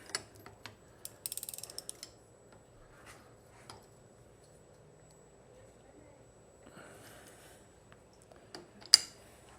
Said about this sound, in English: Now we'll take this nut off the end of our damper rod.